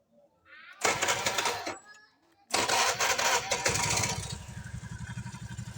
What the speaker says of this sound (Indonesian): Bunyi krokok-krokoknya hilang dan motor ini kembali normal.